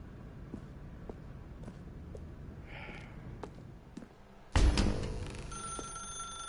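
Faint footsteps tap through a quiet room in The Stanley Parable before an old-style telephone bell abruptly bursts into loud ringing that rings on and gradually fades.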